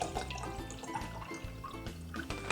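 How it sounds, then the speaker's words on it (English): Water poured into a glass cup for a homemade drink, a close trickling splash with small bright drips and glassy ringing tones, heard alone without talk. "I'm going to pour water into the glass cup."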